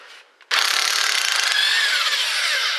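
An electric impact wrench with a 17 mm socket takes out transmission bolts on a 3.0 Dodge. It starts abruptly after a brief faint noise, then runs as a loud, sustained, rapidly rattling whir, close and steady.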